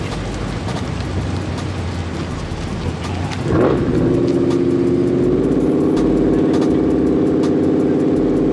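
A street race car launches with traction control switched off. A steady engine rumble builds into a loud, sustained rising roar that holds strong to the end, with no talking.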